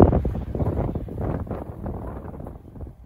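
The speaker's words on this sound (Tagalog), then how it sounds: "Malakas ang hangin dito" Strong wind buffets the microphone in loud, rumbling gusts that rise and fall.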